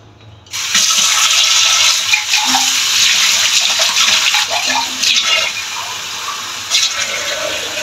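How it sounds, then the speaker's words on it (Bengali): Water is poured into sago dough in a kitchen. It makes a loud, steady rushing pour that starts suddenly and runs for several seconds, close by and without speech. "এখন খুব সাবধানে অল্প অল্প করে জল দিতে হবে।"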